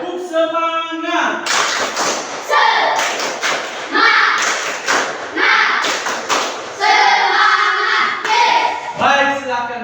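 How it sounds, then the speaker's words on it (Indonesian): A class of standing students performs a rhythmic spirit clap chant in a classroom, loud close claps and thumps landing in repeated patterned bursts, with children's voices chanting between the clap groups. "Tepuk semangat."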